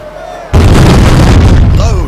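Ship cannon fire in an East India Company naval battle game: one sudden, very loud blast with a long rumbling roar that fills the rest of the moment.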